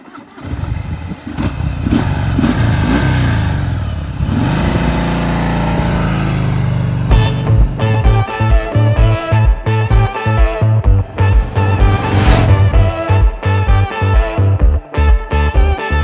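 A 2021 Harley-Davidson Sport Glide motorcycle starts with a loud engine rumble that rises and swells, then settles into a heavy, steady drone, later overlaid by loud pulsing music.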